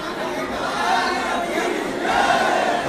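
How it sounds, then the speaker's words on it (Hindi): A large crowd at the Shri Banke Bihari temple raises a dense, swelling roar of voices chanting in unison, rising in waves and staying loud throughout. "और बांके बिहारी जी का जयकारा भी सुनने को मिल जाता है।"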